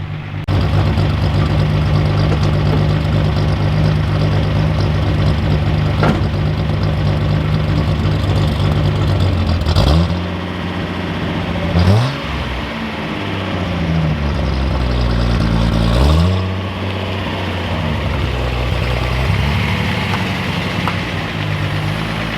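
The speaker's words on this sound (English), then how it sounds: "Let's go ahead and go drive this car" A Datsun 280Z engine idles, then revs up and shifts through several gears as it drives off, the roar rising and falling with each change.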